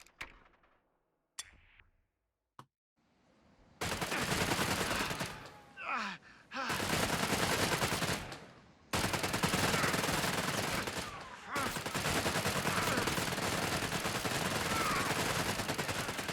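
Company of Heroes 3 machine gun fire in sustained, loud bursts that run almost continuously with a few short breaks, after a quiet start holding a few faint clicks.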